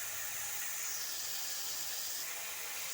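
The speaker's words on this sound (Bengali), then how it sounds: "মাছটা ভাজা হচ্ছে" Small fish frying in hot oil in a pan for a curry, giving a steady, close sizzling hiss that runs unbroken throughout with no voices.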